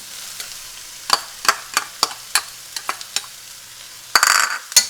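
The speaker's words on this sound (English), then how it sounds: "Okay, now let's throw in our frozen veg." Frozen vegetables sizzle in a pan for keto shrimp fried rice while a utensil stirs them, with a string of sharp, close scraping knocks over a soft frying hiss, then a louder burst of sizzle near the end.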